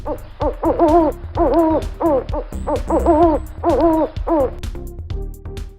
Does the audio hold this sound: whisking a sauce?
no